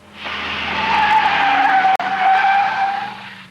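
Road car on a hydraulic skid cradle at a racing school, its tires giving a loud, sustained skidding squeal that swells and holds for several seconds with a brief break midway.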